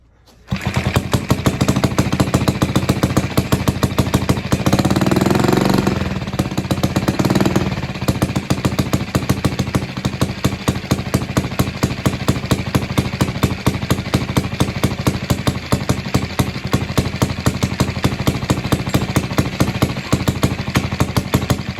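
An old Villiers engine from a barn find, running with a fuel-filled float bowl and the choke on, fires up and keeps running with a loud, rapid, steady putter close by.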